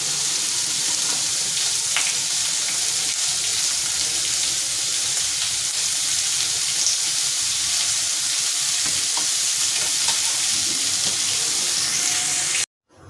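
Onions sauté in a pan for Kolhapuri chicken, making a loud, steady, hissing sizzle that fills the whole stretch without pause, then cuts off abruptly near the end.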